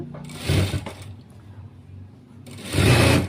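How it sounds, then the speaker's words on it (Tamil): A sewing machine stitches the neck design of a blouse, running in two close bursts of steady motor whirring and needle clatter separated by a quieter pause in which the machine's hum lingers. "தச்சு அந்த பீஸை அப்படியே மேலே திருப்பி ஒரு பதிய தையல் போட்டுக்கோங்க"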